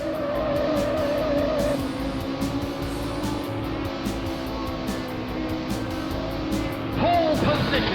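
Racing car engines from the 1995 DOS racing game Screamer drone steadily and loudly throughout, with a sharp tire squeal or skid bursting in near the end.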